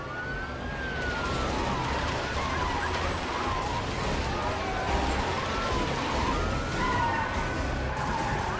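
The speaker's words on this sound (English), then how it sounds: "I'm going to kick off a police car chase in the nearby area" Police sirens in The Amazing Spider-Man video game, set in Manhattan during a police car chase, wail and warble continuously over rumbling traffic and engine noise, with several siren tones overlapping.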